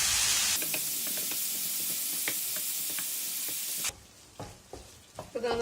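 Onions and tomatoes sizzle steadily in a frying pan for a bread egg masala, with scraping stirs throughout; after a few seconds the frying hiss drops away, leaving quieter intermittent scrapes and taps of the spoon.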